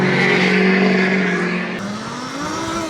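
A modified e-bike on a stock setup, a cheap Amazon bike fitted with a $650 motor, screams loudly and steadily under acceleration, its high whine holding pitch and then shifting upward as it strains for speed.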